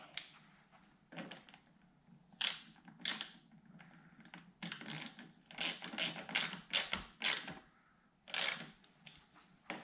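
A tool tightens screws on a Stage 3 rear spoiler being fitted to a C7 Corvette, making close, quiet ratcheting clicks in quick irregular bursts, with no voices.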